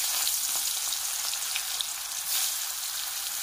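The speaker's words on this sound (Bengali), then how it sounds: "এই যে মাছ ভাজা হচ্ছে" Fish fries in oil in a pan, giving a steady bright sizzle with small crackling pops, close and continuous with no talking.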